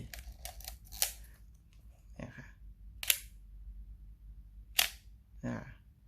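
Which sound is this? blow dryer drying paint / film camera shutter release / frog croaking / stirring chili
film camera shutter release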